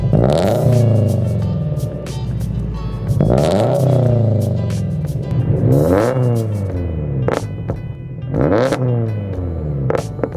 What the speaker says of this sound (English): An unequal length header will have more of that classic Subaru rumble